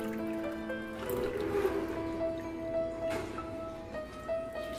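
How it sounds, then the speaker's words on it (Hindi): Water poured into a bowl of wheat flour for pitha batter in a home kitchen, a soft steady trickle and splash at moderate level with faint tonal ringing behind. "2 कटोरी हम इसमें पानी ऐड करेंगे"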